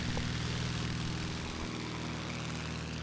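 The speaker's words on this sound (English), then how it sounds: "Lance Hawk in his bone stock Cessna 170 tearing up the skies" Stock Cessna 170 propeller plane taking off at a STOL air show, a loud steady engine drone with a prominent buzzing propeller hum that shifts pitch midway as it climbs.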